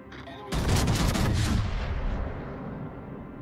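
A sudden burst of heavy video game gunfire erupts and rolls on as a dense, booming volley, then trails off into a fading echo.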